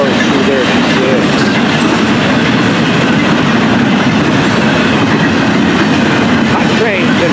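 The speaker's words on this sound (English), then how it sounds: "Double stack, piggyback, on this train." Double-stack freight train with piggyback cars rolling past fast at mile 3236 on the FEC line at night, a loud steady roar of wheels and rail rumble with faint clickety-clack throughout, close by and unbroken.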